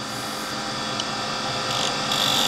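A lathe chisel takes a small, light cut in spinning figured wood while turning a chisel handle, giving a continuous close scraping hiss that brightens slightly toward the end.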